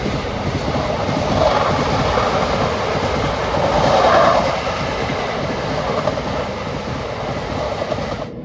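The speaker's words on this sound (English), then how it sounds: "This was followed by another Class 66, but this time on a tanker train." A Class 66 diesel locomotive hauling a tanker train rumbles past close by, a continuous loud roar of wagons and wheels with a faint engine drone, no voices.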